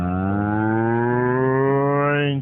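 A cow gives one long, loud, close moo that stays strong and rises slightly in pitch before cutting off abruptly.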